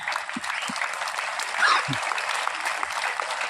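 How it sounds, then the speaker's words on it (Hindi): An audience at an all-India mine rescue competition applauds the competing rescue teams, a dense, loud burst of clapping that holds steady throughout, with a few low thumps and faint crowd murmur beneath. "एक बार जोरदार ताली उन टीम के लिए जो प्राइज जीतेंगे और उन सभी टीमों के लिए जिन्होंने पार्टिसिपेट किया है"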